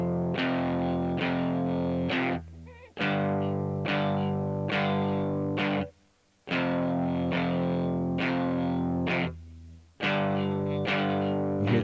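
Distorted electric guitar played with a palm mute, pressure eased just enough to keep contact with the strings: repeated chugging chords in rhythmic bursts with short gaps, loud, up close and alone.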